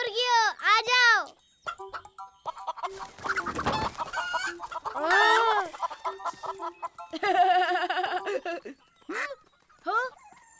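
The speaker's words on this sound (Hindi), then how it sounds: "हे मुर्गियों, आ जाओ।" Cartoon chickens cluck in bright, bouncy bursts, several calls in quick succession with a voice and other cartoon voices talking between them in a farm scene.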